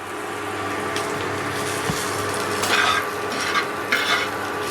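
Onions sizzling in a pan with turmeric and salt while being stirred for a peanut mash, a steady close frying hiss with scraping stir strokes and a few louder bursts, no talking.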